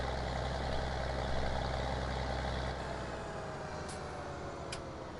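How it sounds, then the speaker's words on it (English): A farm vehicle's engine idles in Farming Simulator 19 on PS4, a steady low diesel rumble that drops in pitch partway through and continues evenly, with a couple of faint high clicks. "you said you bet the engine sounds nice"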